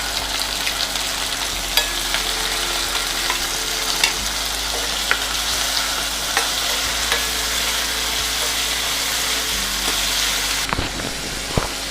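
Onions and green chillies sizzle steadily in hot oil in a pan for a tinned fish sambal, a continuous close frying hiss with occasional stirring clicks and no talk.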